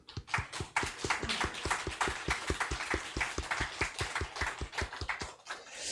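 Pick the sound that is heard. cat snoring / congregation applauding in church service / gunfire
congregation applauding in church service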